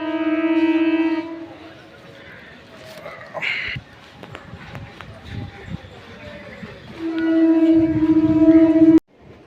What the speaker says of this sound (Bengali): ট্রেনটায় যে হুইসেল দিচ্ছে, ট্রেনটা ঢুকছে।